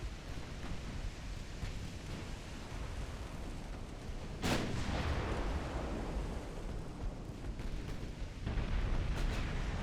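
Warship cannons boom in a pre-dreadnought naval battle game, with shells landing as hits on an enemy ship, a dense rumbling barrage and a sharp blast near the middle, more booms later.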